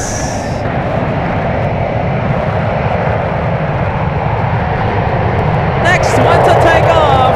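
Emirates airliner roaring at San Francisco airport, a loud sustained broadband jet engine rumble close by, with a faint whistle early on and a voice briefly near the end.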